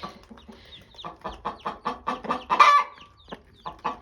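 A mother hen clucks steadily beside her newly hatched chicks at the nest, a run of close, rhythmic clucks with a brief higher chirp partway through.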